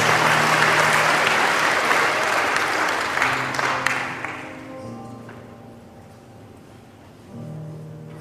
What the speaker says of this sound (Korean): 큰 박수로 축복해주시면 감사하겠습니다